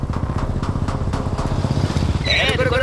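A motorbike carrying a man and a girl putters steadily at mid distance, its pulsing engine note fairly loud throughout, with a brighter tonal sound rising near the end.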